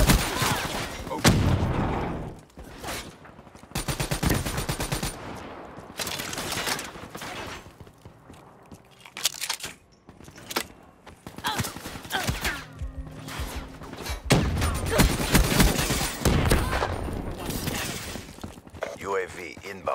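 BRM light machine gun fire rattles out in repeated loud bursts during Black Ops 3 multiplayer gameplay, mixed with explosions, game announcer callouts and player voices.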